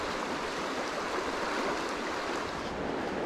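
River water rushing through a big riffle during high spring flow, a steady broadband roar of current over shallows that stays loud and unbroken throughout, with no voices.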